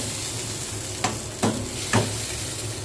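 Chicken and glutinous rice being stirred in a pot for arroz caldo, three distinct scraping strokes about half a second apart over a soft steady sizzle, close up with no voices.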